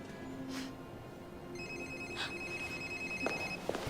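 A telephone rings in a scene from the 2002 horror film Phone: a steady electronic ringtone with repeating tonal bursts over a low background hum, with no talking.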